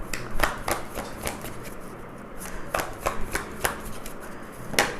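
Osho Zen tarot cards handled and drawn: crisp card flicks and shuffling snaps at irregular intervals, close and moderately loud, with no talking.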